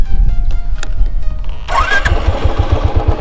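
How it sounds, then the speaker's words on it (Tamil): A Royal Enfield Classic 350 motorcycle cranks and fires up loudly up close, settling into a steady thumping idle in neutral with a rhythmic low pulse, no speech over it. "இப்போ நான் பைக்கை ஸ்டார்ட் பண்ணிட்டேன்"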